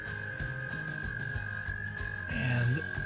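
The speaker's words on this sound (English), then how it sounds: "the sounds you can hear now are frogs. It's mating season for frogs and toads" Frogs calling at a pond during mating season, a chorus of repeated croaks in an uneven rhythm over a steady high-pitched drone, with one louder croak standing out near the end.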